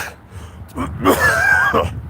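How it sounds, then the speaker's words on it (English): A man clears his throat and gives a short rough cough outdoors in cold weather, close and loud, a few harsh bursts over about two seconds. "Every time I get out into this cold weather, man, coughing and shit."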